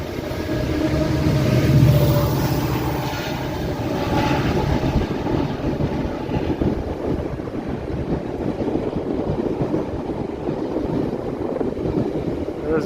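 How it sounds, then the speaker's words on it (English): A GO train passes by in Toronto with a sustained, rumbling roar that swells slightly early on and then holds steady over wind buffeting against the microphone, with no clear talk. "I see a GO train coming."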